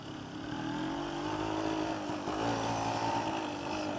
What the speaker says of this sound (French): tu mets les gaz à moitié et tu testes